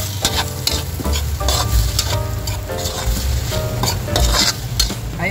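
Carrots are stir-fried with fish sauce in a pan, giving a loud close sizzle with rapid repeated clanks and scrapes of a spatula against the pan, alone with no talking.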